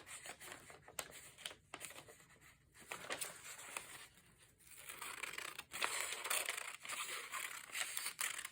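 Paper being cut and handled for a junk journal: crisp snips, rustling and crinkling come close up and fairly steady, with brief pauses, and no talk.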